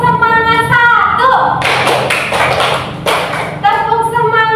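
A class of primary-school children performs a rhythmic tepuk semangat clapping chant, bursts of quick claps packed between chanted words from a teacher and the group, close and loud.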